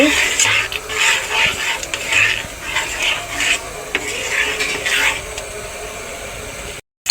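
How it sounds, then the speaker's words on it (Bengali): A spoon scrapes and stirs thick carrot halwa in a pan, producing repeated rough rubbing strokes in an uneven rhythm, close and fairly loud, ending in a sudden cut. "ভালো মতো নেড়ে চেড়ে নিচ্ছি"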